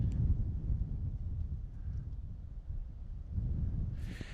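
Gusty wind on a golf course rumbles low against the microphone, rising and easing over a few seconds, with a faint brief hiss near the end.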